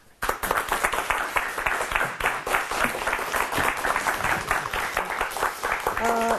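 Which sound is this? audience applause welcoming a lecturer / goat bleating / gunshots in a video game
audience applause welcoming a lecturer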